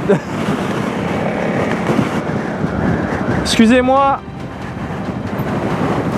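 Strong wind buffets the microphone in a constant roar during an off-road motorcycle rally in Crete, and a person briefly speaks over it in French.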